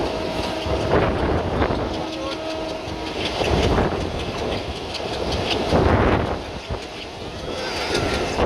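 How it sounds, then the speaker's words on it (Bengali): A train runs past on the rails near Mongla, Bangladesh: a steady, broad rumble with rhythmic surges and wind buffeting the microphone throughout. "সুন্দর করে ট্রেন যাচ্ছে।"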